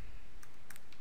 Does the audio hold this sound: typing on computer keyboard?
yes